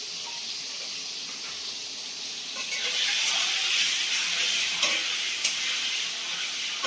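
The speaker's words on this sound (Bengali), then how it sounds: "কড়ার মধ্যে একে একে ডিম দিয়ে দেবো, দিয়ে ভালো করে লাল লাল করে ডিমগুলো ভেজে নেবো।" Eggs dropped into hot oil in a wok (karai) sizzle with a broad, steady hiss that swells louder partway through, with a few sharp crackles and spatters near the end.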